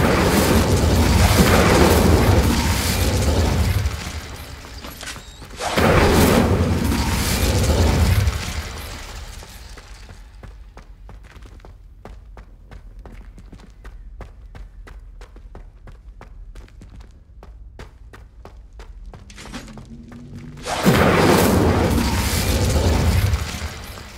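Incendio fire spell cast repeatedly in Hogwarts Legacy: loud roaring flame bursts come in thick blasts, with a quieter stretch of crackling, ticking fire in between before another big whoosh.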